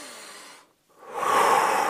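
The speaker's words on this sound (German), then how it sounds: "Tief einatmen und ausatmen." A slow, deep breath drawn in through the nose and released out through the mouth, a soft airy hiss, a short pause, then a louder, fuller exhale close to the microphone.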